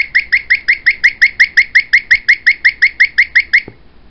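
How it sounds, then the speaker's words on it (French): A Sony Digimatic alarm clock beeps in a rapid, steady series of about sixteen bright chirping pulses, loud and close, then stops abruptly. "Donc c'est vraiment une alarme assez étrange"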